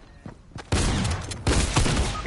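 Video game gunfire arrives as a few sharp shots and then two loud, dense bursts of rapid firing that fill the sound close by, with no speech over them.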